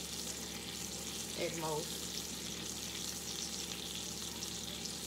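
Catfish fillet sears in a pan on an electric stove set low, giving a steady soft sizzle and frying hiss throughout, with a brief scraping stir partway through.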